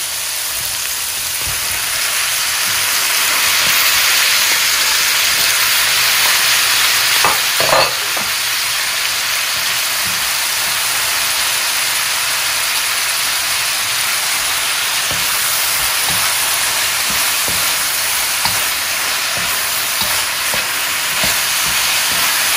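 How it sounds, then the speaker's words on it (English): Tomatoes hitting a hot frying pan while cooking sweet and sour fried tilapia, a loud, continuous sizzle and hiss with occasional stirring scrapes, close and steady with no talking. "And next we'll add our tomatoes."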